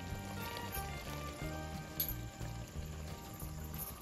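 Chicken rubbed with turmeric and salt simmers in a pot, giving a steady low sizzle and bubbling with no break over a few seconds, fairly close and moderately quiet.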